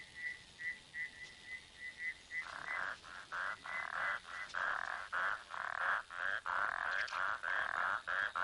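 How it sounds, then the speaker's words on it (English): Many frogs call from a rainy-season bushveld pond at night, with a steady pulsing chorus of repeated bright notes that swells louder partway through. "About 20 different kinds of frogs will breed at night in this pond."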